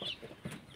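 Turkey chicks peeping and chirping in short bursts, fairly close, with small high calls scattered over a low background of other fowl clucking; no talking.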